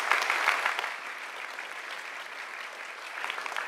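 Audience applause at an advertising award ceremony in Toranomon Hills, Tokyo, honoring a grand prize winner: dense, steady clapping from a room full of people, loudest at the start then sustained evenly throughout.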